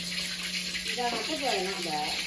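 Tap water runs in a continuous hiss while grill pans are washed in a home kitchen, with a voice talking over the flow midway.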